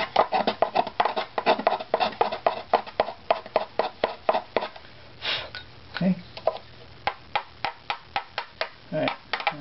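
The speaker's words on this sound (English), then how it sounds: "so we need to scrape in this bottom area a little more." Scraper working the bottom area of a handmade violin back plate during plate tuning, a rapid run of short rasping strokes with a few taps, close and fairly loud.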